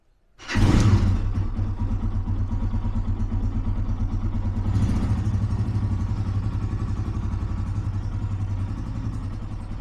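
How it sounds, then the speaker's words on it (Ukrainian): A motorcycle engine starts and settles into a steady idle as it warms up, a close, even mechanical putter with a faint rattle that continues unbroken for several seconds. "Хай працює і прогрівається. Мотоцикл повністю прогрівся"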